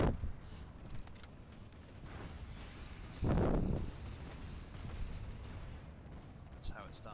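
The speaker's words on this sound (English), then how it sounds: "Throwing grenade down there." A grenade goes off in the online shooter Planetside 2 as one booming, fairly close blast about halfway through, set against a quieter bed of battle ambience and distant noise.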